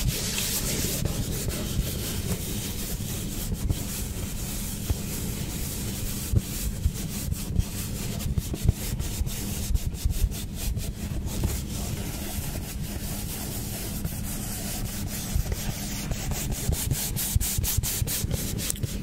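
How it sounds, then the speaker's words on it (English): Steady, close rubbing and scratching of what may be sandpaper runs throughout, with dense rapid textured strokes and a low rumbling undertone. "like doing this kind of sound, like rubbing on things"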